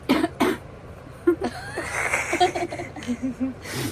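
A few sharp coughs and throat sounds come in short bursts, with nearby voices and faint background chatter in between.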